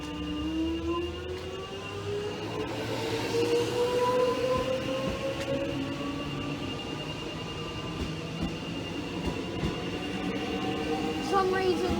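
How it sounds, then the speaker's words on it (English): An Alamein line train pulls away with rising, whining tones and rumbling wheels, a steady mechanical drone that builds and carries on throughout. "so the Alamein train's departing."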